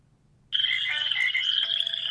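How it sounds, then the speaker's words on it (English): Frog-themed ringtone playing from an LG enV2 phone from 2008, a steady synthetic pond chorus of croaking and chirping tones that starts abruptly and continues loud and alone. "You've got the swamp right here, the pond, chilling by the pond with the frogs."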